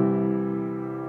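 Piano sounds a sustained chord from a five-one progression, a single held, ringing harmony that fades gently over about a second.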